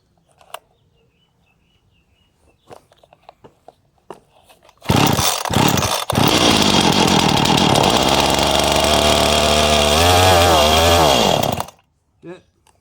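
Poulan Pro 5118 chainsaw, long unused and running on old petrol, roars loudly and steadily for about seven seconds after a few quiet knocks and a pull, then cuts off abruptly, with a brief sound after.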